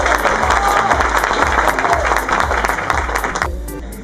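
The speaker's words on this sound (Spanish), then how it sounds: "Un aplauso para él." An audience applauds for a city councillor at a public event, a loud, dense burst of clapping with some cheering that holds steady and then thins out near the end.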